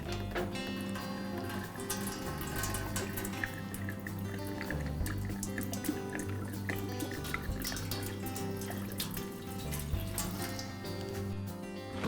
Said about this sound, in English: I've set up a tray to catch the gas, and I'll tip the mower.